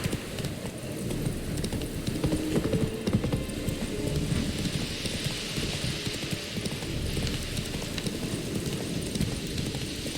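Roach, a horse in The Witcher video game, gallops with steady rapid clip-clop hoofbeats over a dense low rumble, close and continuous throughout with no pauses.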